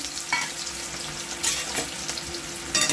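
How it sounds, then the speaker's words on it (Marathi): Chopped onion sizzling and frying in hot oil for a chicken gravy, a steady broadband crackle with occasional louder bursts as it is stirred, close and continuous without any talking. "कांदा बघा चांगला परतून घ्यायचा असा तेलामध्ये"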